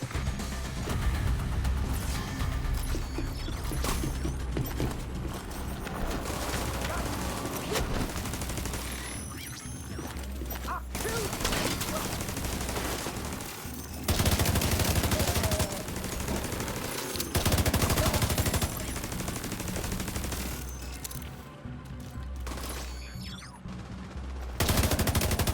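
Dense, sustained gunfire with rapid bursts and booming explosions from The Division 2 video game, loud and continuous throughout with sharp shifts in intensity and no talk over it.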